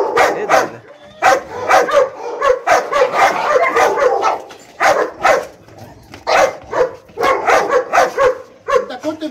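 A dog barks repeatedly in quick, aggressive bursts, close and loud, with a few whimpering yips between barks.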